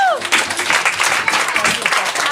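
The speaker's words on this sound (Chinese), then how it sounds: "给他拍手2下" A bar audience claps for a band member at a live show, producing a dense, steady burst of applause that fills the room from start to finish.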